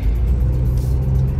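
A car pulling away for a drive to Vashi, a steady low engine rumble and road drone held loud and close throughout, with no talking.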